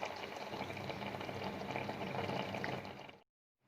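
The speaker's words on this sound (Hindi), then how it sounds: "टमाटर जब बॉईल हो रहे हैं" Tomatoes boil in water in a pot for homemade puree, giving a steady, soft, dense bubbling hiss that cuts off abruptly near the end.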